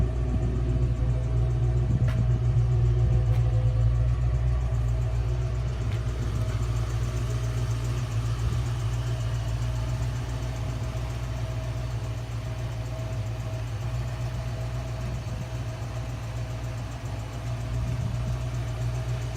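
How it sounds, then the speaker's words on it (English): A 1986 Ford Mustang GT with its 5-liter V8 idles steadily, a loud, close, even low rumble that holds for the whole stretch with no voices over it. "1986 Mustang GT. 5-liter V8."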